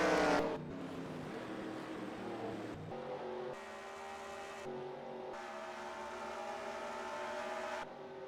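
Racing trucks in a video game pulling onto pit road during a race, a steady droning engine note from several vehicles with shifts in pitch as they slow and move, no voices.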